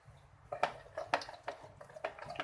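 A spoon stirs and scrapes a bowl of macaroni salad dressing seasoned with powdered sugar, salt and black pepper, making a string of light clinks and knocks against the bowl at an uneven, close rhythm.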